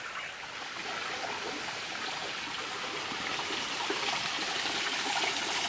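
A small waterfall running low in dry weather trickles and splashes in a steady, continuous wash, fairly close and with no voices.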